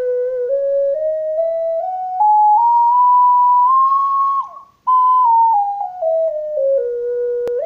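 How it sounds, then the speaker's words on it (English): A cheap Chinese-made ocarina plays a pure, breathy tune alone, stepping up through several held notes to a peak, then back down, ending with a brief dip and a sharp click. "This is a cheapo ocarina, Chinese-made thingy."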